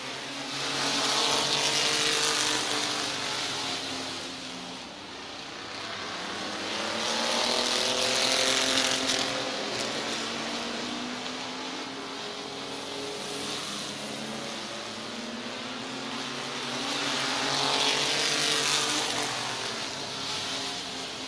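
Race cars circling Midvale Speedway, a loud, continuous engine drone that swells and recedes in waves as the field passes, with shifting pitch from several cars at once.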